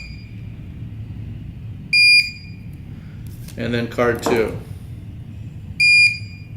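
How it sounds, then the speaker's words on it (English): Two loud, short electronic beeps sound several seconds apart from a unit taking a firmware program card, with someone speaking briefly between them. "And it beeps."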